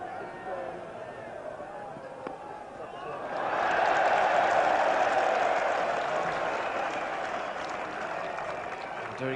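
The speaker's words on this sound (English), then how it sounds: "Derek Pringle's new best friends out there give him a cheer" A Test match crowd watching England against the West Indies in 1991 swells into loud cheering and applause as Derek Pringle gets off the mark, sustained for several seconds before easing off, with commentary voices running underneath.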